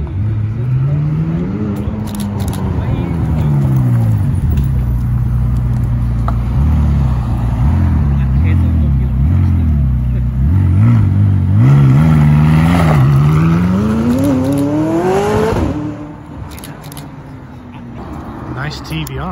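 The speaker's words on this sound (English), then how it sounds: "That is a very nice 600 LT." A McLaren 600LT supercar on the street in Alderley Edge, its engine note climbing and falling through revs as it drives past close by and loud, then dropping away near the end.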